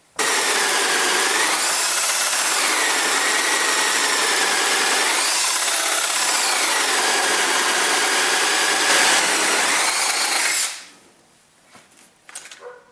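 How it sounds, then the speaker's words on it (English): A drill bores a backset hole through a French door for the latch, producing a loud, steady grinding whine into wood that runs continuously for about ten seconds before stopping abruptly, leaving faint handling noises. "So let's go ahead and drill that out."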